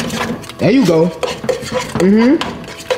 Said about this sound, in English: You're not even stirring the whole bowl